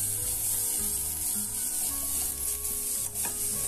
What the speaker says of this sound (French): Vous laissez les oignons mijoter, cuire, dorer un tout petit peu.